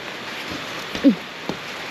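Rain falls outside a rural house in a soft, even hiss, broken by a couple of brief thumps near the middle.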